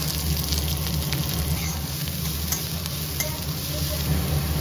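Chopped onion sizzles in hot oil with mustard seeds, coriander leaves and raw sooji while being stirred. A loud, dense sizzle with stirring scrapes continues steadily throughout, close up and without speech.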